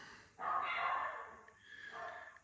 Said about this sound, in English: Lots of dogs here going crazy.